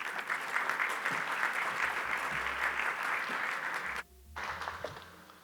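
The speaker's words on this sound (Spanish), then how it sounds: "recibamos con un gran aplauso a Ignacio Briones" Sustained applause from a conference audience at the Expomin congress in Chile welcoming a speaker to a panel, steady and full before cutting off abruptly, then a brief quieter patch of clapping resumes.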